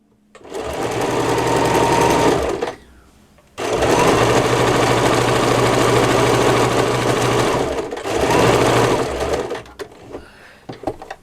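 A domestic sewing machine stitches patchwork in loud, steady bursts, running about three seconds, pausing briefly, then running again for several seconds with a short stop before a final run.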